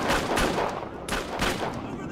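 Rapid bursts of video game gunfire, a fusillade of overlapping shots in a Humane Labs mission, loud and close, with two dense volleys separated by a brief lull and faint speech mixed in.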